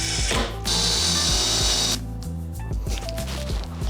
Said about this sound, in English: we're gonna use this as a template to drill the holes into this one